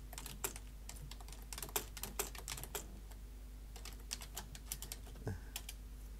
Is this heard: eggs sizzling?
no